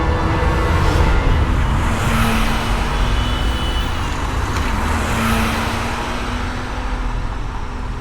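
A car driving along, with a steady close road and engine rumble and broad tire noise that swell slightly and ease off over the stretch, with no talk.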